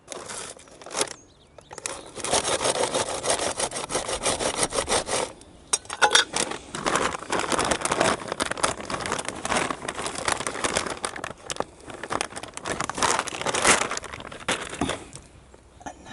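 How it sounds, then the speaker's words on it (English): Compost is scooped and tipped into a potato grow bag, giving close, rough scraping, rustling and crumbling sounds in bursts with brief pauses. "then I'll put compost in to about halfway up the trowel handle"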